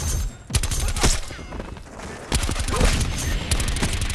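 Gunfire in Call of Duty: Black Ops 4 cracks out in loud, sharp bursts, several rapid volleys separated by brief lulls, close and punchy over game background noise.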